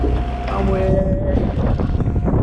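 A sailboat motoring dead into a strong headwind across the Bay of Biscay, making four to five knots; a steady broad rush of wind and water with engine drone underneath, continuous and close, with faint tonal whine.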